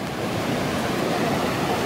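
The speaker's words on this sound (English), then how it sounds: "you can probably hear the waves. They're really pretty loud" Pacific Ocean surf breaking on the shore at night, a steady, loud, broadband wash of waves with some wind noise, continuous and without any talking.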